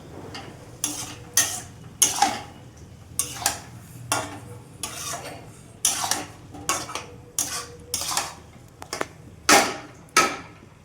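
A utensil stirs and sautés spice paste with soybean in a pan, producing a steady rhythm of close metallic clanks and scrapes roughly every half second to second.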